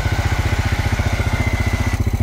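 A quad ATV engine idles close by, a loud, even, throbbing putter with steady rapid pulses that keeps going without change.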